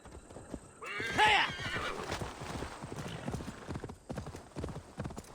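A horse in the Viking-era game Assassin's Creed Valhalla gives a loud, shrill neigh that rises and falls, over a steady clip-clop of hooves and faint game ambience.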